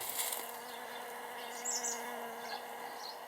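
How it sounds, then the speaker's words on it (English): A faint, steady buzzing of honeybees around flowers drones close by outdoors in a spring garden, with a few soft bird chirps scattered in the background. "our little honeybees are loving it."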